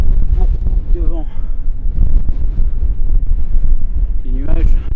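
Strong, steady wind buffeting the microphone on a mountain in the Pyrenees, a loud continuous roar with brief voice fragments rising through it.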